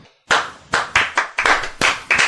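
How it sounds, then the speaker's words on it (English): A small group gives a brief, sparse round of clapping: about eight uneven, close claps over two seconds, starting after a short silence. "pathetic clapping"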